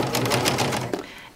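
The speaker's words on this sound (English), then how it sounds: "And then just go ahead and start sewing." A serger sewing machine stitches pillow fabric with cording in a rapid, steady mechanical chatter of needle strokes, close and fairly loud, slowing at the end of the short burst.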